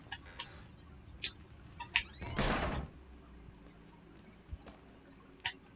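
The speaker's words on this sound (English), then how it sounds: "This guy stays slamming doors," A door slams hard in the horror game Outlast, a loud, broad thud that stands out among a few sharp knocks and softer bumps in an otherwise quiet, tense space.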